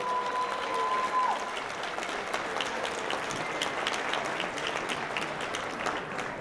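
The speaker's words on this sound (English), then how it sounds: "Let's give them a huge round of applause." A crowd at a Relay for Life event applauds the River Falls High School Pep Band, a sustained, moderately distant patter of many hands, with a brief tone heard near the start.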